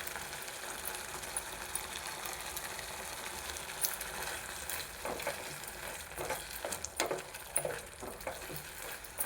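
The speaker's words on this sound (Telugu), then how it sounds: "కరివేపాకు వేస్తున్నానండి." Curry leaves crackle and sizzle in hot oil for a nalleru (veldt grape) chutney, a steady close frying hiss with sharper pops and spatters growing more frequent toward the end.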